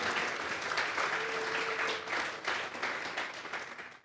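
A church congregation gives a long round of applause during a service, a dense, steady clapping from many hands that fades slightly toward the end.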